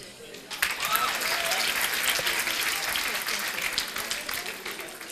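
Crowd applause at a backyard holiday celebration, swelling in after a quiet opening and continuing as a dense, steady mass of clapping with some voices underneath.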